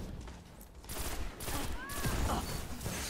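Gunfire in the Destiny video game, a rapid burst of shots close and loud over layered game effects and a brief whistling tone, with no speech.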